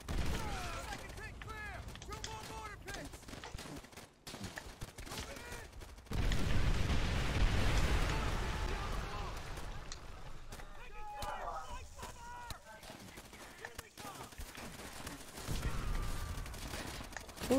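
Gunfire and explosions in Call of Duty: World at War, a WWII shooter game, rumble as dense, overlapping bursts and booms throughout, loudest in sustained stretches, mixed with game effects and a voice talking over it.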